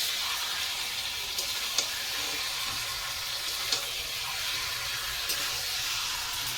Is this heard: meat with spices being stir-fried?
yes